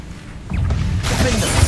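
A Bombarda blasting spell in Hogwarts Legacy, going off as a short, loud burst of crashing, shattering noise with a low rumble, after a brief voice.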